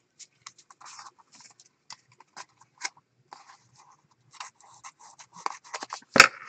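Paper from an old Sears and Roebuck catalog is cut for a junk journal, with small scattered snips and taps, quiet and close, ending in a sharper louder snap or knock.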